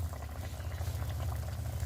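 A sardine fish curry with mango boils in a pot, giving a close, low, continuous bubbling with soft irregular pops.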